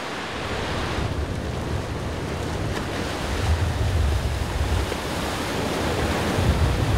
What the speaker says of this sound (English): Oh yeah, this is actually not a bad wave.